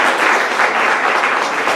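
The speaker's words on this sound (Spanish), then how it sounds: "Démosle un fuerte aplauso al doctor" An audience at an academic general session gives a speaker a loud, dense, continuous round of applause with no break.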